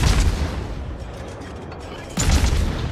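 Rapid gunfire from the Khabarovsk destroyer in World of Warships, a dense pounding barrage of overlapping booms that eases slightly midway and then hits hard again, loud and continuous.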